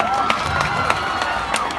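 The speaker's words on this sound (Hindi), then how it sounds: "जोरदार ताली जो प्लीज" Crowd cheering and clapping at the Kalahandi festival in Junagarh, a steady loud wash of applause with shouts and whistles rising through it, continuing throughout.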